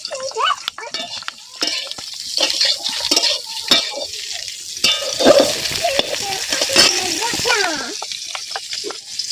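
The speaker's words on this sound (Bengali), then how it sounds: "ভালো করে এই সমস্ত উপকরণ মিশিয়ে নেব" Powdered spice, salt and a little sugar being stirred together in a hot pan for a village-style cauliflower roast, with steady scraping and soft sizzling under a voice talking throughout.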